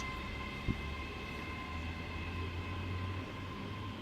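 A train rumbles at Lenzie station in Scotland, a low steady hum of engine and wheels with a faint high whine and a single brief knock early on, heard from a moderate distance without talk.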